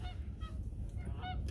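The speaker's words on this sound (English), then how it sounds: "now I got Canadian geese surrounding the car" Canada geese honk nearby around a parked car at an abandoned restaurant lot in Columbus, Ohio, several short nasal calls over a low rumbling background.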